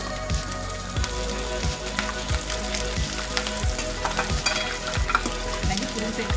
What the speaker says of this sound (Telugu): కొద్దిగా ఆవాలు వేసేసి కొంచెంసేపు ఫ్రై చేసుకోవాలి